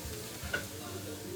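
Meat sizzling on a braai grill, a steady frying hiss running through the short moment with no talk over it.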